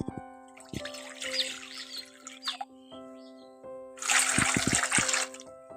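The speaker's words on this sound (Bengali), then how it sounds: "এখন কড়ার মধ্যে জলটা দিয়ে দিচ্ছি" Water poured from a container into a kadai for boiling eggs, splashing in two bursts, a shorter one early and a louder, fuller pour near the end, with clinks of metal in between.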